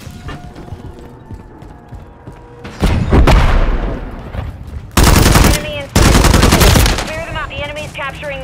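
Bursts of machine gun fire ring out in Call of Duty Modern Warfare III on PlayStation 5, loud and sustained in rapid rattling streams, broken by short pauses and clanking weapon mechanisms, with voice callouts at moments.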